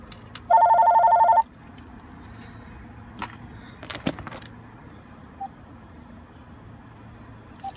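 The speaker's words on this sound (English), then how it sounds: "It rings once and then it stops ringing" A hotel front desk telephone rings once in a short burst, then goes quiet, leaving only faint room noise and a few small clicks.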